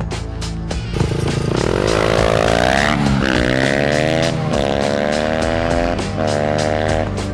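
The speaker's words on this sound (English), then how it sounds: "Yeah, it's a Honda, that's why it's rattling." A Honda motorcycle fitted with an FMF exhaust revs loudly and close by, its engine pitch climbing and dropping repeatedly over a rattly, rough idle tone.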